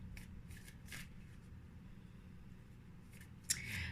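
Tarot cards are handled and shuffled at close range, with soft papery riffles and brushes in short bursts over a quiet background hum, ending in a sharper snap.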